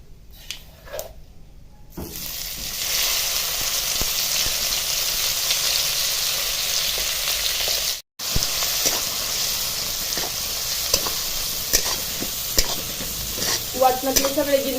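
Ground spice paste sizzles and is stirred in a pan, a dense crackling hiss with scraping strokes that begins after a quiet start, pauses briefly midway and resumes until the end.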